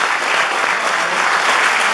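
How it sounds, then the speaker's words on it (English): A crowd of guests at a Cops and Robbers ball gives a round of applause, a dense, even wash of many hands clapping without pause. "Can we give them a round of applause?"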